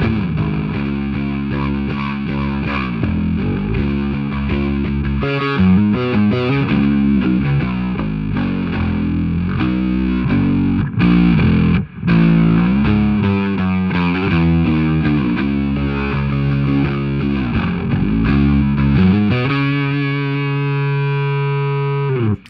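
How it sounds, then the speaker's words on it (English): Rock bass guitar run through Dark Glass distortion and Big Muff fuzz pedals together, producing a thick, saturated, loud riff of sustained fuzzy notes with short breaks and a closing bend. "Here's what it sounds like with the Dark Glass and the Big Muff on."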